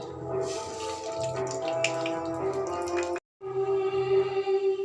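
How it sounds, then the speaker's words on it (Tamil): Oil pours into a paniyaram pan in a steady liquid stream that breaks off briefly and then resumes, close by and with no voices. "எண்ணெய் ஊற்றவும்"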